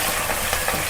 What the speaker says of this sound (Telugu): ఇవన్నీ మంచిగా ఫ్రై చేసుకోవాలి.